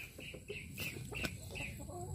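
A fighting rooster clucks and grumbles in a series of short, close calls, a steady run of throaty notes with faint background noise.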